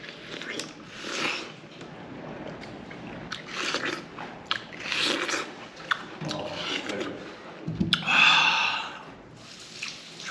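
Sweet watermelon served as a welcome treat on a mountain trip in Morocco, eaten with moist biting and chewing close to the mic, repeated juicy bites and a louder crunchy bite near the end.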